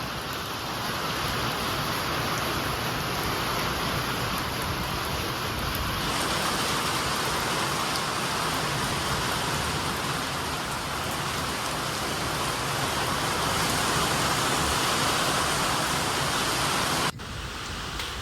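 Heavy rain pours during a summer thunderstorm in a village, a steady, dense hiss that runs unbroken and loud from start to finish, with no distinct thunderclap and no talking.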